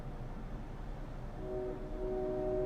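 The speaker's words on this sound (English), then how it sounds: "That sounds like a train." Low rumble of what may be a distant train passing outside, a dull steady roar with a faint sustained horn-like tone appearing toward the end, heard at a distance.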